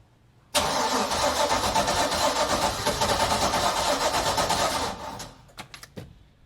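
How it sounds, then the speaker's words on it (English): A Mercruiser 350 MAG MPI marine engine in a Tahoe 234 boat is cranked on the starter for about five seconds, a loud, steady, close churning roar that cuts off sharply, followed by a few small clicks. "we can turn the engine to start for 5 seconds to clear the fuel out of the line"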